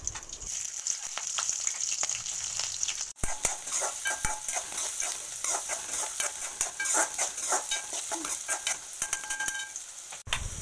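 Onions frying in sesame oil with fennel seeds and green chillies, a steady bright sizzle with occasional stirring scrapes and clinks of a spoon against the pan.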